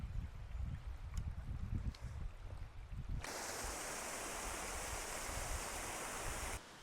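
A small stream beside a mountain hiking trail, heard first as a low, wind-buffeted rush and then as a bright, steady, close hiss of flowing water for several seconds.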